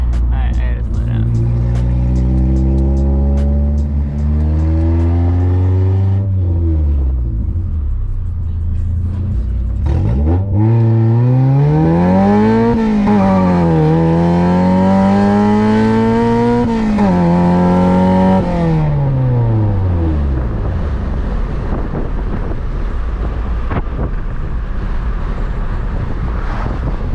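A Honda Accord with an H22A engine accelerates on the road, its loud, close engine note climbing in repeated rising sweeps between gear changes, then winding down as it eases off, with occasional voices in the cabin.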